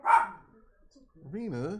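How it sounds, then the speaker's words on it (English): A dog gives one short, sharp bark near the start, followed by a pause and then a drawn-out, wavering howl-like vocal sound. "That bark was adorable."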